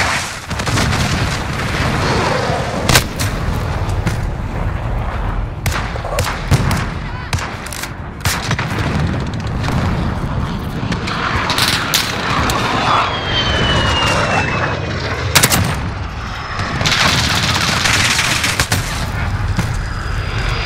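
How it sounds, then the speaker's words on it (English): In a video game, an enemy VTOL aircraft roars overhead while loud bursts of automatic gunfire and booms crackle repeatedly through a dense, continuous battle din. "Enemy VTOL in the AO."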